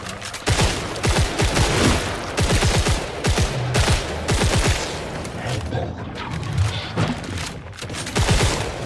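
Rapid bursts of 2058 gunfire in a shooter video game, loud, close and nearly continuous, with repeated volleys and brief gaps.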